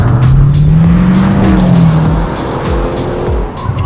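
A heavy Dodge Challenger V8 muscle car driven hard. Its engine roars loud and close with tire squeal over a steady growl, then eases into choppier, pulsing engine noise with no voices.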